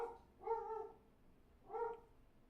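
A dog gives two separate, clear barks with a pause between them, each a mid-pitched woof at moderate distance in otherwise quiet surroundings.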